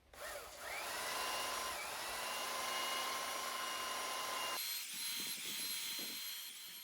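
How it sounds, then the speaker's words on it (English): A belt sander works an inside curve over a curved platen, giving a steady, loud, high-pitched whine with a continuous abrasive hiss. The tone shifts and thins partway through as the load on the belt changes. "this belt sander doesn't know the difference whether it's sanding flat or sanding an inside curve"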